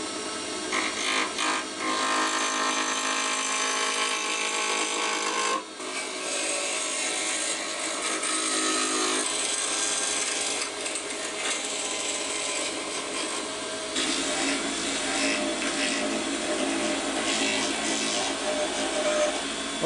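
A power drill whirs continuously into resin and cardboard, a gritty, crumbly grinding texture with brief pauses and shifts in pitch, heard up close without any talking.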